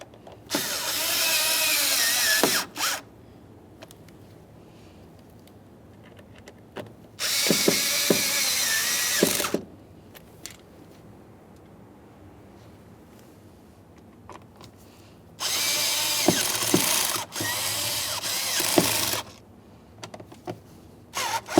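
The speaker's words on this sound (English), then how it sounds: "Now we can start in each of the mounting bolts and snug them up." Three separate bursts of a power driver snugging mounting bolts on a 1994-2001 Dodge Ram 1500 door weatherstrip, each a loud whirring run of a few seconds separated by quiet pauses.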